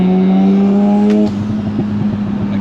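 A four-rotor rotary-engined Toyota Supra drift car on a backroad holds a loud, steady, buzzing engine drone, then abruptly drops off into a lower, rougher, uneven burble.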